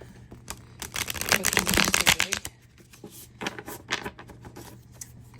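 Tarot cards from a stiff new deck shuffled by hand in a run of dense riffling bursts, loudest early and then in shorter flurries, close up and without talk.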